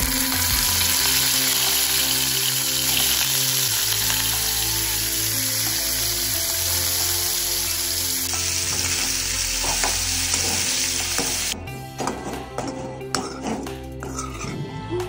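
Paneer pieces fry in hot oil in a pan with a steady, close sizzle for most of the clip, then it breaks into uneven crackles and stirring clinks toward the end.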